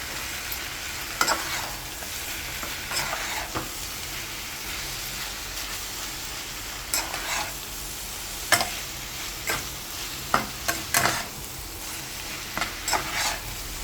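Brinjal, potato and broad bean curry is stirred in a hot pan, with a steady sizzle and frying hiss beneath intermittent scraping strokes of the spoon, close and fairly loud.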